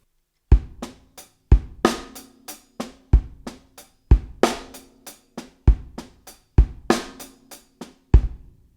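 Linear groove on a drum kit, single hits never stacked: bass drum and snare strokes alternate with lighter hi-hat and cymbal taps in a steady, syncopated pattern, close and loud with no talking.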